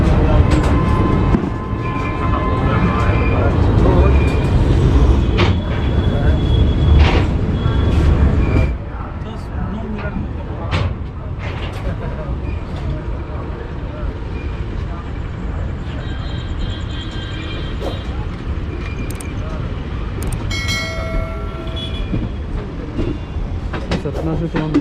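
The Patliputra Express passenger train rolls along after leaving Satna station, its cabin rumbling steadily with rail clatter and occasional clicks. The noise drops partway through, and speech may be heard faintly.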